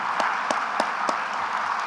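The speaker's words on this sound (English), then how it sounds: "if we can just give them another round of applause" Audience applause at a community awareness event on intimate partner violence for newcomers, a steady broadband wash of many hands with a few sharper individual claps standing out, moderately loud and continuous throughout.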